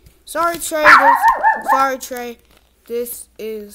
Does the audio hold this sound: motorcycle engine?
no